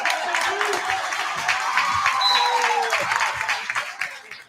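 Tinora volleyball fans cheer and applaud in a gym during a varsity match against Patrick Henry, a steady loud crowd roar with clapping that fades slightly toward the end.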